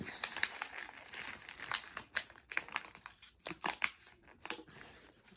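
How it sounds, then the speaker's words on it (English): Paper being folded into an origami crane makes close, irregular crinkles and crisp rustles, with sharp creasing snaps in quick bursts and short pauses between them. "take the right flap and fold it over like that."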